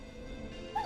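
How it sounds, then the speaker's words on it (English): A neighbor's dog in Killer Frequency gives a single short bark near the end, faint and distant against a quiet background. "Is that a neighbor's dog?"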